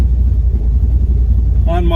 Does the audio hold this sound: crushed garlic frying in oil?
no